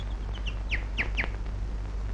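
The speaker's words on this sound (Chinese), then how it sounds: "小鸟，" A small bird gives a quick series of sharp, descending chirps, a few soft ones followed by three louder calls in steady succession, over a low background hum.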